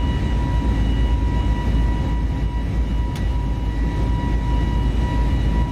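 Airbus A320neo with LEAP-1A engines in a flight simulator soundpack produces a loud, steady cabin-side drone with a constant whine and low rumble, unbroken throughout.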